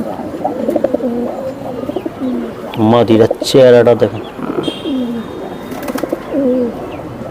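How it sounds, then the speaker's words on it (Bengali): Giribaj pigeons coo in repeated rolling bursts at close range, loud and clear, while someone talks over and between the calls. "এই যে দেখেন কবুতর দুইটা দেখেন"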